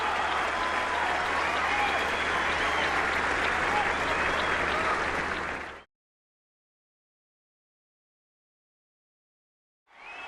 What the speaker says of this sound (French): Rafael Nadal, qui quitte ce central sous les applaudissements